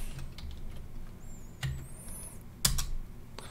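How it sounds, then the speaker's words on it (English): Soft, quiet keystrokes as a password is entered on a computer keyboard during a firewall management install, a few scattered taps spread over a faint background with one sharper click near the end. "here you need to type a password"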